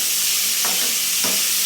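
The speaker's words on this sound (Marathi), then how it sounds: "कांदा, टोमॅटो आणि मिरची जी चिरेल ते आपण यामा टाकी देतो आणि त्याला चांगलं फ्राय करून घेतो" Onion, tomato and chili frying in a pan for a Khandesh-style brinjal bharit, a steady loud sizzle with two quick stirring scrapes, no talking.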